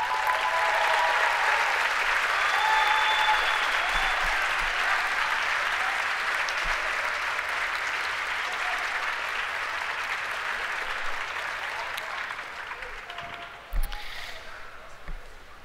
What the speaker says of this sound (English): graduates, if you'd please rise and applaud your parents, the community, your staff, and everyone who helped make this possible